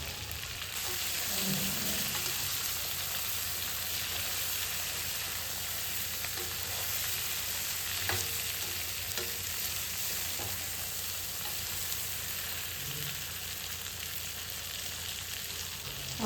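Eggplant pieces sizzle steadily in oil in a pan, a constant soft frying hiss with occasional faint stirring clicks, low and even throughout.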